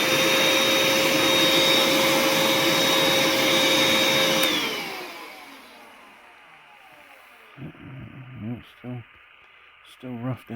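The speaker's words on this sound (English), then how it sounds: "That vacuum not blowing anything around here." A vacuum cleaner used to clear dust while restoring a Bassett-Lowke steampunk model locomotive roars loud and steady for about four seconds, then winds down and cuts off, leaving a few short, quieter sounds behind.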